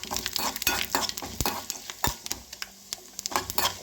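Whole spices such as cinnamon, cloves and star anise roast in hot oil in a pan for a broccoli dish, with a soft sizzle broken by repeated sharp scrapes and clinks of a spoon stirring against the metal.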